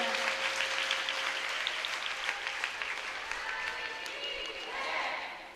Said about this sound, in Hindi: इनका ताली बजा के जोरदार स्वागत करें